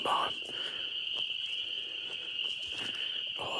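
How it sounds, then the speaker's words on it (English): Frogs in a pond at night form a constant high-pitched trilling chorus, fairly faint and unbroken, with soft patter like footsteps underneath. "All these frogs, they all want to get laid. They're having a big frog orgy down in the pond here."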